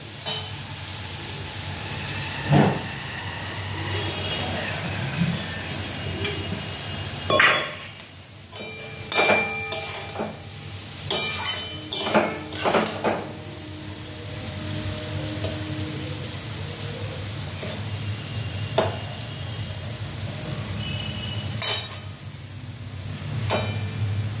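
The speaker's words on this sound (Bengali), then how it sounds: "এটা একটু ভাজা হোক" Whole green chillies sizzle in a pan of hot oil, a steady crackling hiss punctuated by repeated metallic clinks and scrapes of a spatula stirring, busiest in the middle stretch.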